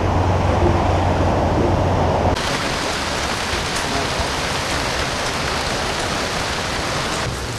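Heavy rain pours down on a market street, a dense, steady, close roar of drops hitting the surfaces that continues without a break.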